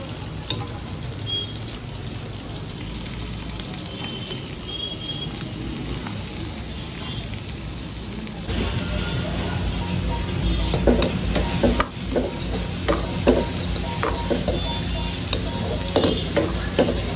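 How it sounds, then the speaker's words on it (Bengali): Crispy chicken lollipops frying in hot oil in a restaurant kitchen while being stirred, a steady hiss and sizzle that grows louder and busier halfway through, with scattered clinks and scrapes and no talking. "এগুলোকে ভালো করে নাড়াচাড়া করতে হবে বারবার।"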